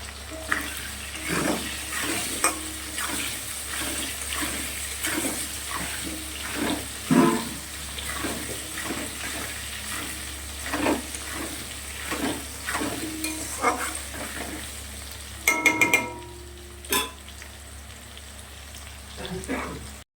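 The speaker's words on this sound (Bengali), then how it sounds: "আলুগুলোকে একটু লাল লাল করে ভাজবো।" Potatoes fry in a pan with salt and turmeric, giving a steady sizzle broken by repeated scrapes and stirs of the spatula, with a brief burst of running water near the end.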